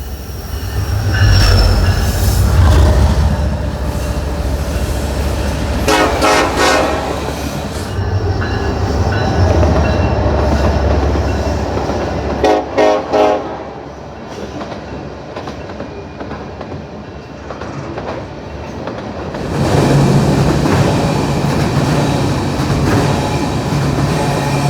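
A South Shore Line train rumbles past up close with clattering wheels and squealing, and a horn salute sounds over the roar.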